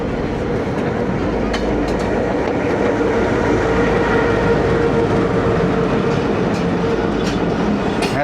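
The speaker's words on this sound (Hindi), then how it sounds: "ट्रेन आ रही है।" A passenger train pulls in behind a GMU locomotive at a Pakistani railway station, a loud, continuous rolling rumble with clattering wheels and faint squeals running throughout at close range.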